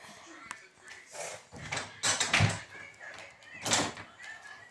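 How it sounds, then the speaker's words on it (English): A door is forced open with a couple of loud rattling, scraping thuds and a clatter, set against quieter room noise. "I can't open the door for some reason."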